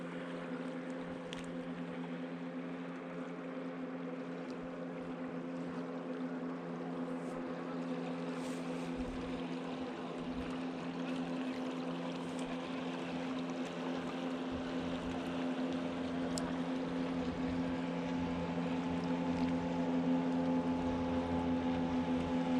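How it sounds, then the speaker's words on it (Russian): A powerful motorboat passes on the Irkut river in September, its steady tonal engine drone droning moderately loud and growing slightly nearer toward the end, with wind and water noise underneath and no speech. "Мощная лодка идет."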